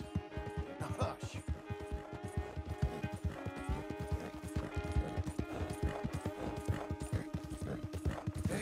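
Hooves of a horse clip-clop in a quick, steady rhythm close by, with a whinny and voices talking over the hoofbeats throughout.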